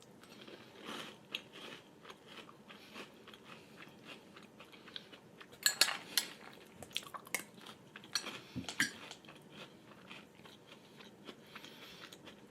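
Close, crisp crunching as someone chews General Mills Loaded Cinnamon Toast Crunch cereal during a taste test, irregular bites and chews with louder crunch bursts midway and no talking.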